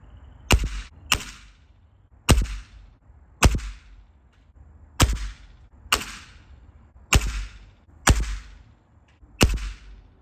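A GAMO Swarm Whisper Gen 1 air rifle is fired repeatedly outdoors while sighting in a scope, giving eight sharp, close reports spaced roughly a second apart, each with a short fading tail and quiet gaps between.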